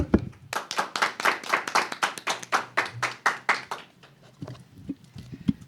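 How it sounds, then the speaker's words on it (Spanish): Applause welcoming a speaker on a Catholic talk program: a run of loud, distinct, rhythmic claps, roughly fifteen, close and crisp, then thinning out and fading into near quiet with a few scattered taps. "y lo recibimos con un fuerte aplauso."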